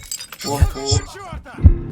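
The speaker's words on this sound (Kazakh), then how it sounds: "Балға мен мынаны сындырамыз ғой" Several heavy smashing blows ring out with clinking, breaking debris, while a person talks between the hits.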